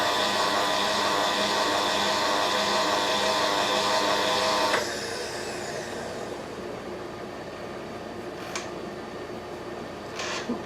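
A milling machine moves its table while cutting HDPE soft jaws for a vise, producing a loud steady mechanical whine that drops abruptly to a quieter hum midway, followed by a couple of faint clicks.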